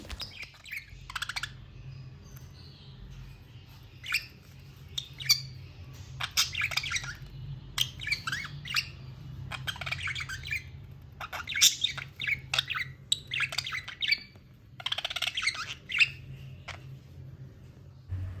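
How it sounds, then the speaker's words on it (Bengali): Several caged budgies chirp and chatter together in quick, irregular bursts of bright tweets and squawks, close by and steady throughout, with no one talking. "অনেকগুলো পাখি যখন একসাথে থাকে তারা কিন্তু কিচিরমিচির করে"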